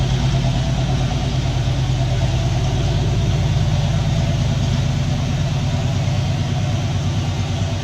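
A 1964 Dodge D300 Sweptline crew cab engine idles on old gas, a steady close low rumble with an even pulsing beat throughout and no talk.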